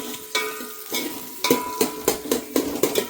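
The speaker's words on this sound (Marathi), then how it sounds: "आणि कांदा चांगला लालसर होईपर्यंत" Chopped onions, two of them, cook in hot oil in a pan until reddish, with a steady close sizzle broken by repeated stirring scrapes and light clinks of a spoon against the metal.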